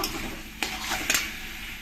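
Fried potatoes are stirred into a spice paste in a pan for a banana-blossom and paneer curry. A steady sizzle runs throughout, with two sharp scraping clinks of the spoon against the pan, close and alone.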